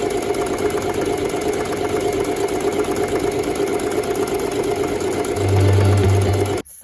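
A sewing machine sews a French seam on a silky midi skirt, giving a steady close mechanical hum and chatter that carries on without pause, then stops abruptly at the end.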